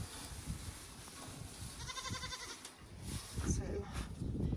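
Goats bleat at feeding time beside bales of compressed alfalfa and orchard grass hay, several calls rising over steady outdoor noise with a person talking nearby.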